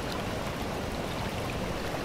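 Continuous broadband rush of the River Bann flowing at Gilford, an even, close wash of moving water with no voices or other sounds.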